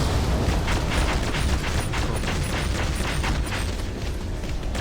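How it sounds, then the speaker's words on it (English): Magneto's Meat Grinder and Blunt Instrument abilities fire in the Marvel Heroes video game as a dense, continuous churn of grinding, creaking metallic mechanism noise with low rumbling booms, steady and loud throughout with no talking. "first thing I do is activate Meat Grinder and then Blunt Instrument"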